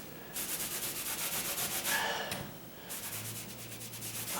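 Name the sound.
wiping paint residue off a wall with a sponge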